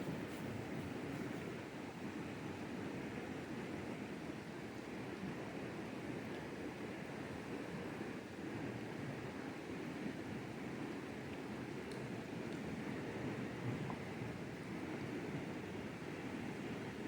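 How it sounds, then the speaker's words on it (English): The Big Qualicum River on Vancouver Island rushes in a steady, broadband roar, continuous and unchanging, with a hint of wind buffeting the microphone and no voices. "This is Big Qualicum River."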